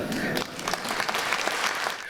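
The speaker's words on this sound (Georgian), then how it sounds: "საკადრისი აპლოდისმენტების ხმა დიდხანს ისმოდა რუსთაველის ეროვნულ თეატრში." A theatre audience at a jubilee evening at the Rustaveli National Theatre applauds, a dense steady wash of many hands clapping that stays loud throughout.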